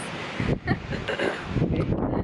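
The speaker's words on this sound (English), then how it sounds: "It is very windy out here today" Strong gusting wind at a beach buffets the microphone in loud rushing bursts, with a low surf-like roar underneath.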